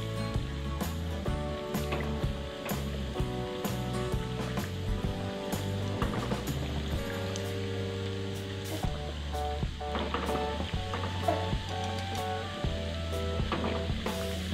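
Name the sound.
bread rolls frying in hot oil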